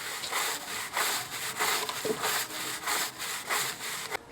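A wire brush of the kind used for welding scrubs hard across burnt wood for a table, in rhythmic back-and-forth rasping strokes, close and fairly loud with no talk.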